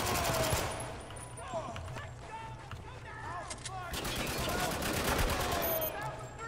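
Bursts of AK rifle fire in Spec Ops: The Line ring out repeatedly over a noisy battle scene, rapid volleys mixed with other gunshots and game effects.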